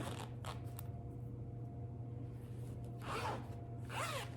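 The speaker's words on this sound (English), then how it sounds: "Here's a zipper." Two quick pulls of a skirt zipper, one after another near the end, close and crisp over a faint steady hum, with a few light handling clicks earlier.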